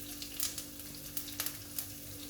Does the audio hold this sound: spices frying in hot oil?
yes